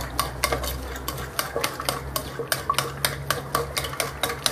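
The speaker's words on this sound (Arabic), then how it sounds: "كنخلطوا المقادير مزيان" Cake batter with lemon and walnuts is mixed briskly in a bowl, a quick, rhythmic run of close clinking and scraping strokes that continues evenly throughout.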